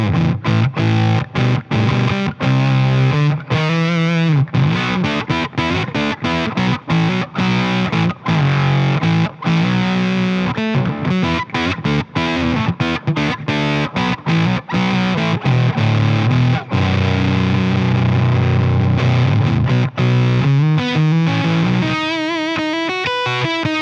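An electric guitar played through a Warm Audio x Dirty Boy Dirty Boy Jr fuzz pedal gives a steady stream of loud, thick fuzzed chords and riffs with a heavy low end, up close and with no talking.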